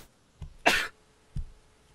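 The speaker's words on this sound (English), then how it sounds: "There was just a cough or sneeze sound." A man coughs in the horror game Ib: a soft low cough, one harsh louder cough and a final short cough, spaced within two seconds against near silence.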